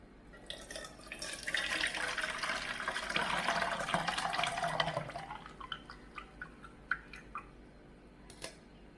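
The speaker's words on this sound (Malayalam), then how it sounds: "ഇനി ഇത് നമുക്ക് അരിച്ചു കൊണ്ടുവരാം." Blended spiced buttermilk (sambharam) being strained in a kitchen, a steady close liquid pour and trickle that swells for several seconds, then tapers off into scattered drips.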